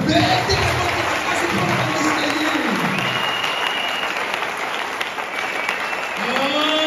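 A church congregation applauds during a sermon, with sustained clapping and cheering from the crowd and voices mixed in throughout.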